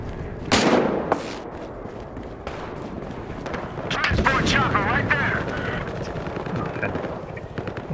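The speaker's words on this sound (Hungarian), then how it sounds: "Valaki lő rám, érzem hátból." Gunfire in a Battlefield Hardline match: a couple of loud close shots early on, then a stretch of rattling bursts and crackling fire, with someone talking over the action.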